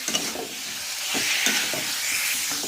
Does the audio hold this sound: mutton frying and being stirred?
yes